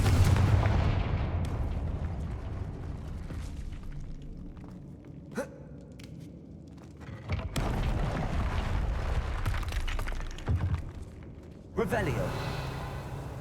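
Confringo, an explosive fire spell in Hogwarts Legacy on PS5, goes off in a few sharp booming blasts over continuous game ambience, with a person talking throughout.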